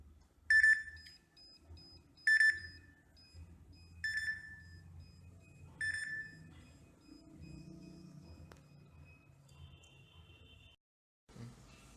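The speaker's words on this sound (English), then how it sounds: "You can hear the buzzer buzzing here." An ultrasonic obstacle sensor's buzzer gives four sharp electronic beeps at a steady pace, each about two seconds apart, then stops, leaving faint rumbling and a few soft clicks.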